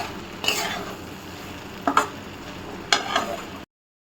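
Okra with peanut powder is stirred in a frying pan. Steady sizzling hiss runs under a few scraping clinks of the spoon against the pan, then the sound cuts off abruptly.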